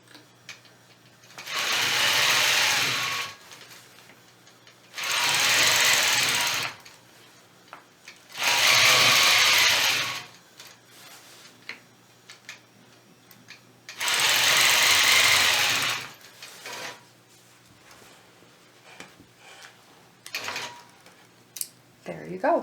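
A sewing machine quilts an arrow design into a triangle quilt block, running in four close bursts of two to three seconds each, separated by pauses with quiet handling sounds between.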